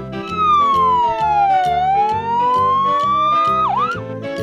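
A toy ambulance's loud wailing siren sweeps slowly down and back up in pitch, with a steady rhythmic pulsing tone beneath it, close and continuous.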